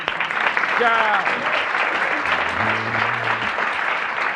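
Studio audience applauding at a live French television variety show, a steady broadband clatter of clapping lasting throughout, with voices talking over it.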